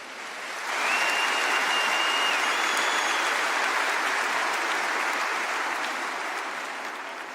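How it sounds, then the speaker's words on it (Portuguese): A church congregation applauds during a Portuguese-language sermon by Frei Gilson. The clapping swells in, holds as a dense, steady wash of applause at moderate distance, then slowly thins toward the end. "Aplauda José de Arimateia."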